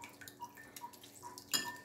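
Homemade mozzarella cheese is washed by hand in warm water, giving quiet, sparse drips and small splashes, with one louder slosh near the end.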